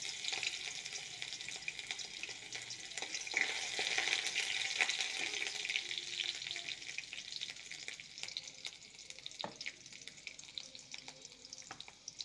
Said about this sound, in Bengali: তেলটা গরম হয়ে গেছে, আমি সর্ষের তেলে রান্নাটা করছি। ফোড়নে দিয়ে দিলাম গোটা রসুন, কাঁচা লঙ্কা